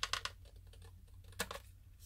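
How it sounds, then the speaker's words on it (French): Cutting double-sided tape straight while decorating a box: a few faint, quick clicks and snips in two short clusters separated by a pause. "Alors, je le coupe bien droit."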